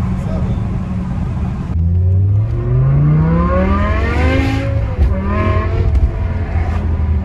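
A BMW M5 with a V10 engine and full-tube exhaust, being driven in a drift, revs hard, pauses through a gear change, then climbs again, loud and close, with voices talking over it.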